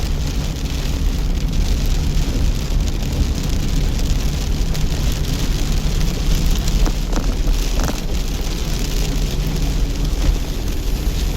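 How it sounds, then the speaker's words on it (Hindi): Steady rain hisses and patters across surfaces, a dense, even wash of noise with a low background rumble underneath. "बारिश भी एकदम ही आ गई।"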